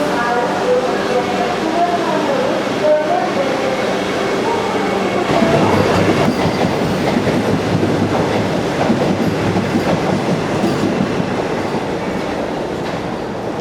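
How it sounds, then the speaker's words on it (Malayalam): A Vande Bharat Express train rolls past on the line in a steady, loud rumble of wheels and rail noise that lasts throughout, with clattering texture building in the middle. A voice speaks over the start. "അപ്പോൾ വന്ദേ ഭാരത് അങ്ങനെ ഇറങ്ങിപ്പോയി."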